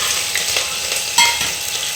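Cashews and a green chili fry in well-heated oil: a loud, close, steady crackling sizzle with one brief sharper pop midway.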